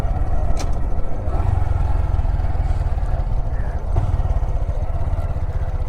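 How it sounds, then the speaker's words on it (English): An FZ motorcycle engine revs up briefly to rev-match on a shift from first into second gear, with a loud, close, continuous mid-pitched drone and a few clattering mechanical clicks. "then you're going to rev match once again on second gear. I will demonstrate."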